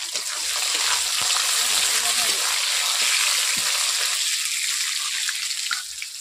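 Tomatoes sizzling in hot oil with panch phoron for a tomato pickle, a steady bright frying hiss with small crackles and occasional stirring, close and continuous throughout.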